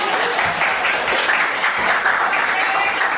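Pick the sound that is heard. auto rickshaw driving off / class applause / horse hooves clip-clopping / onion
class applause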